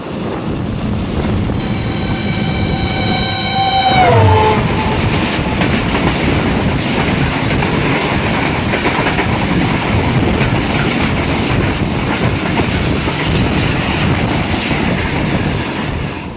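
The 146 Down Sukkur Express rolls along a Pakistan railway line, a loud steady rumble of wheels and carriages with a long horn blast near the start, continuous and close with wind buffeting.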